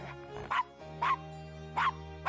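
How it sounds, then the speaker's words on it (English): A dog barks three times in the Gabriel Knight: Sins of the Father video game, short yipping barks spaced about half a second apart over a steady low background hum. "Nice doggy. Good Castro."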